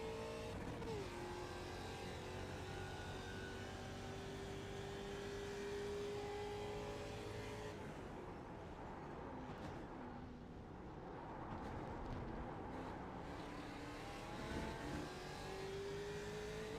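Race car engine in the iRacing sim at Sebring, a steady loud motor drone with rising and falling pitch through gear changes and revs, continuous for the whole stretch with no talk.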